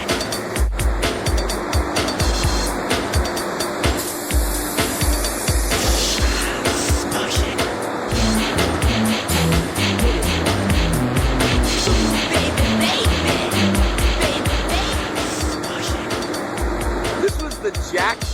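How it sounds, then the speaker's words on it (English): Construction vehicles drive past on a Washington D.C. street, with engines rumbling and tires rolling by in an uneven series of passes, loud and near against busy city background noise. "Construction vehicles go by us"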